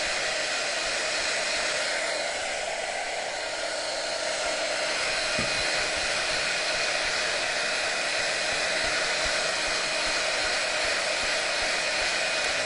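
A hair dryer blows continuously on a craft surface, drying it before rub-on transfers go onto a vintage Christmas pitcher and bowl; a loud, steady, close whoosh with no pauses and no voices.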